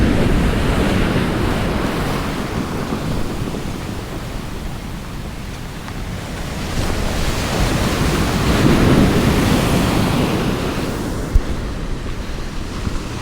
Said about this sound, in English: The wind's not bothering me though, to be fair.